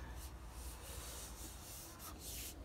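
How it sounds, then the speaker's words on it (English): Steady, close rasping of sandpaper rubbed back and forth over a wooden thumbstick walking stick in quick repeated strokes, with no voices. "what I'm going to do is give it a bit more sanding"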